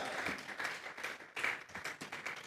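Church congregation clapping together as an offering of applause to God, a steady run of many hands clapping in rhythm, moderately close, with no speech.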